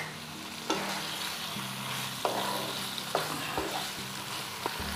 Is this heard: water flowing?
no